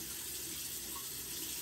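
A bathroom tap runs steadily into a sink while rinsing after teeth brushing, a continuous close splashing hiss with no voices.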